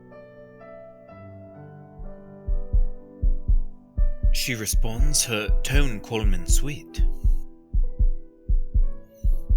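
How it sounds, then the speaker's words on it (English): Steady heartbeat sound effect from a romance visual novel, a regular low double-thump pulse running throughout, with a voice speaking over it partway through. "But I feel her heartbeat rise."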